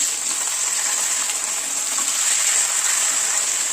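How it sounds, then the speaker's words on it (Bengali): Chicken pieces sautéing in a hot pan for chicken kosha, a steady close hiss and sizzle of oil with faint stirring, continuous and even throughout. "মাংসগুলোকে আমি একটু কষিয়ে নিই।"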